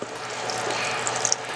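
Soft, steady pouring and bubbling of a cold water and cornstarch mixture being poured into simmering pork chop gravy, heard close and continuous with faint small pops. There is no speech.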